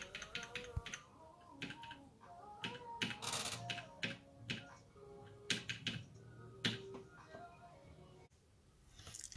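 Keys pressed on a homemade modern Atari XL computer keyboard, a run of sharp clicky taps in irregular bursts and pauses, close and clear, with a faint hum underneath.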